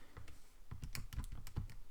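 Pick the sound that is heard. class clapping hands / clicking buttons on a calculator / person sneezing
clicking buttons on a calculator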